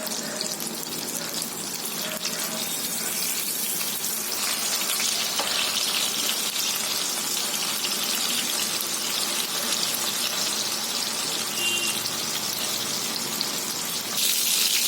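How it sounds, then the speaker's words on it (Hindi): Mutton seekh kebabs fry in oil in a pan over medium-high gas, giving a steady, close hiss of sizzling that runs unbroken throughout with no talking. "गैस को हम यहाँ मीडियम टू हाई पर रखेंगे और इसे फ्राई होने देते हैं"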